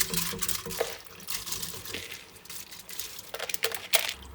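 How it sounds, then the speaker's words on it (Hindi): Washed, drained rice is tipped into boiling water in a cooking pot, giving a close patter of grains and small splashes in uneven bursts, with brief clinks and a fuller splash near the end. "अब हम लोग इसके अंदर ये चावल डाल देंगे।"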